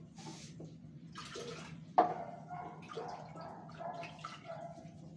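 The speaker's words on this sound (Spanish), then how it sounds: "Le vamos a poner un poquitín de agua al vaso para bajarle todo." A little water poured from a glass into a pan of beef fillet and potatoes in guajillo sauce: a faint trickle and a sharp splash with small drips and sizzle, quiet and close, no talk.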